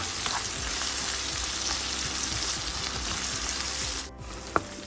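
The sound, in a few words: radish sautéing in a pan for sambar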